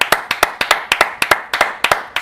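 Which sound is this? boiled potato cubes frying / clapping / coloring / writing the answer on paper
clapping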